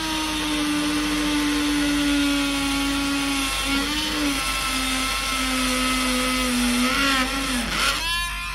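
Battery-powered 4V mini drill with its largest included bit boring a hole, a steady close whine with a high harmonic tone that dips and wavers as it bites into the material, ending in a rough grinding burst.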